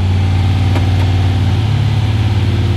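A Nissan LS13 car with an LS engine, raised on a hoist and held in first gear, runs with a steady loud low engine drone and harmonic hum throughout, holding at fairly even revs.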